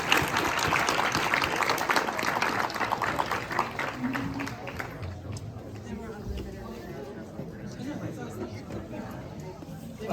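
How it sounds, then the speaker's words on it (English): Audience applause for authors Sona Movsesian and Rafael Agustin at a book event: a dense burst of clapping that fades after a few seconds into crowd chatter and murmuring. "please just give a round of applause for Rafa and Sona."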